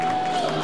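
Crowd cheering at a live wrestling show, a brief, dense roar of many voices filling the hall at steady loudness.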